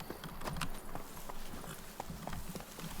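Steady clip-clop of Roach, Geralt's horse, trotting through the Witcher 3 world, hooves striking at an even rhythm, close and moderately loud over a faint background ambience.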